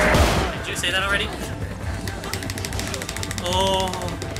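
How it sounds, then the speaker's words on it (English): Rapid gunfire from a Resident Evil 5 co-op game session, sharp repeated bursts and booms running throughout over dense game sound effects, with no talk. "I can hear gunfire!"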